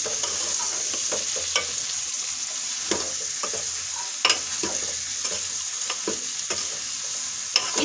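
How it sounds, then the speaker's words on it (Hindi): Sliced green chillies stirred into tinda curry frying in a pan: a steady sizzle with repeated scraping stirs and a few sharper knocks of the spoon, close and alone. "इनको डालकर थोड़ा सा हम मिलाएंगे"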